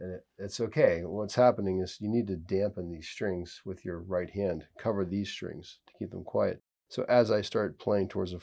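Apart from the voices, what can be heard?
No everyday noises stand out.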